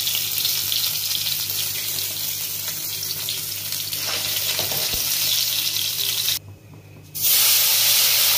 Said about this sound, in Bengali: বাকি মাছগুলো আমি ভেজে নিচ্ছি।